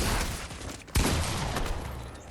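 Rapid SMG spam gunfire in Fortnite, a dense burst of fast repeated shots that carries straight through the short stretch, loud and close, with a sharper crack about a second in.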